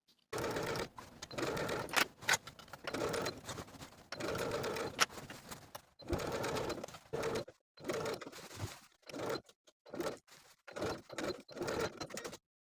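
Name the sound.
sewing machine stitching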